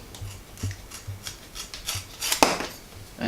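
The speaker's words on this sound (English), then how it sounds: "Now I'm going to cut this piece. It's not completely symmetrical, and using scissors can be kind of daunting." Scissors cutting a leather belt piece, giving a series of short, crisp snips and rubbing scrapes at an uneven, deliberate pace, close up and fairly quiet.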